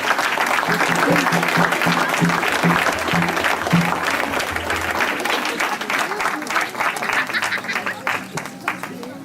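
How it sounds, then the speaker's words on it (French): Audience applauding children at a gathering, loud continuous clapping from a crowd that gradually thins and fades toward the end, with a few voices mixed in beneath. "on peut peut-être applaudir les enfants simplement parce que ce sont des enfants."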